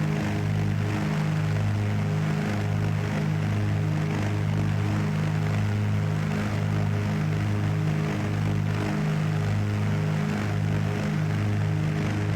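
Twin piston engines of a Carenado PA44 Seminole in a flight simulator drone on steadily in a loud, even cabin hum with a strong propeller tone throughout and no talking.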